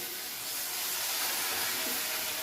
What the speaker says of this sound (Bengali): এখন এই রাতের বেলা 8টার সময় পকোড়া ভাজছি।